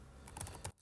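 A short burst of typing on a computer keyboard, several quick, light key clicks close by, with no voices.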